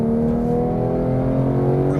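A Porsche 911 GT3 (991) engine pulls hard and steadily under load, a loud continuous mechanical drone heard from inside the car.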